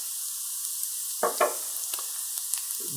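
Herbs sizzling in a hot pan while a risotto is being made, a steady faint hiss with a couple of brighter crackling bursts and a soft stir near the end.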